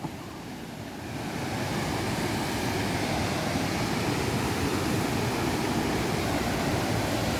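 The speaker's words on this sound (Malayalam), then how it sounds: "വെള്ളം ഇങ്ങനെ ചാടി പതഞ്ഞൊഴുകുകയാണ്." Ezhukumvayal Thuval waterfall pouring and foaming over rocks, a dense, steady roar of rushing water that swells after the first second and stays loud and unbroken, heard nearby without voices.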